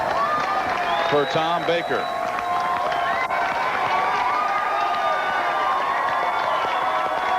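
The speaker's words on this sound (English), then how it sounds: "And a big round of applause" Crowd noise with applause and cheering at the 1998 Brentwood Classic bowling tournament, a steady wash beneath an announcer talking over it throughout.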